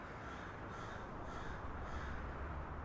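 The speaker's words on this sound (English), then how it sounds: "When I hear the crows" Several crows caw repeatedly in a video game over a steady low rumbling background, the calls fairly faint and spaced out.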